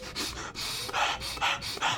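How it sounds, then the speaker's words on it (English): Deep breathing exercise done as rapid, forceful panting, a run of about eight quick rhythmic breaths heard up close with no talking. "breathe like this"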